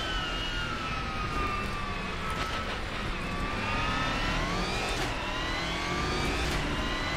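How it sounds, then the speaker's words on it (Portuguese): Race car engine in the rFactor 2 racing simulator drones steadily and loudly, its pitch sweeping up and down through gear changes and corners, with a continuous layer of tire and road noise beneath. "O barulho do motor aqui é bem legal."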